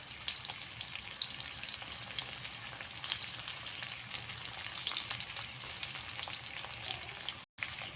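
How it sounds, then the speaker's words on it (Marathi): Long-sliced onion dropped into hot oil for a dry mutton dish sizzles and fries steadily and loudly throughout, with a brief cut near the end and no talking. "बघा आपलं तेल गरम झालेलं आहे बघा त्याच्यामध्ये कांदा टाकून घेऊया"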